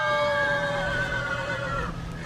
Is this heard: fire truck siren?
no